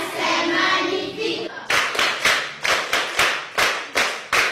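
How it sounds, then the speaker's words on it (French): A classroom audience clapping in unison, with a burst of noisy crowd sound followed by about nine loud, evenly spaced claps in a steady rhythm. "Vous l'acclamez très fort."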